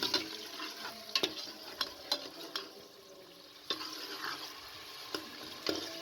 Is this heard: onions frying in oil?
yes